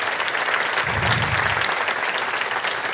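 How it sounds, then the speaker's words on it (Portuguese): A church congregation gives a round of applause during a sermon, a continuous wash of many hands clapping at moderate distance, with a brief low rumble partway through and no speech on top. "Que bênção, merece uma salva de palmas,"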